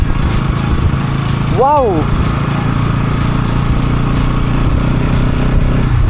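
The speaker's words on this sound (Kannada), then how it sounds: "ಬೀಚಲ್ಲಿ ಗಾಡಿ ಓಡಿಸ್ತಾ ಇದ್ದೀನಿ" A vehicle engine drones steadily and close while driving along a beach, a continuous loud rumble that runs throughout as someone speaks excitedly over it.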